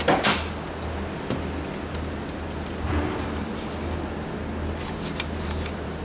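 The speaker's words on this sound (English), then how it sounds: "Across there, and the door shuts nicely." A Range Rover Classic car door swings shut with a solid thud at the start, followed by a few faint knocks over a steady low hum.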